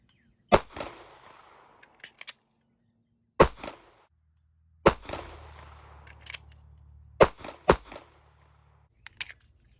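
Canik METE MC9 9mm pistol fired at an outdoor shooting range from about seven yards, sharp single shots in small spaced groups, loud and close, with brief ringing tails and light metallic clicks between strings.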